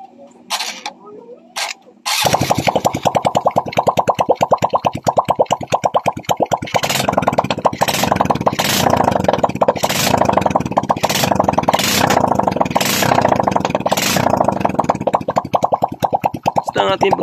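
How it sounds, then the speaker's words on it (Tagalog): A Honda XRM 125 carburetor motorcycle engine, reassembled after a rebuild, starts after a short quiet stretch of handling noises and then idles loudly with a steady, rapid chug, joined by periodic sharper bursts. "So, andar natin ang motor."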